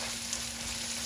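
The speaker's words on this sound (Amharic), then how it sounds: "ነጭ ሽንኩርት ደግሞ ጨምራለሁ።" Garlic frying in a pan for an Ethiopian firfir dish, a steady soft sizzle and crackle that holds level throughout, quiet and alone with no talk.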